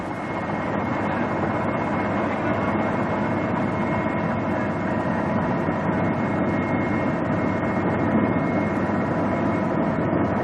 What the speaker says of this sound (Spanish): Al oír el sonido del helicóptero